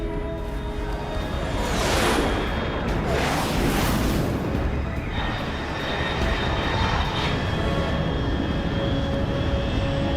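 A fast aircraft in Metal Gear Solid Delta: Snake Eater roars past at high altitude, a loud rising and falling whooshing engine rush that swells twice, then settles into a steady drone, with no talking.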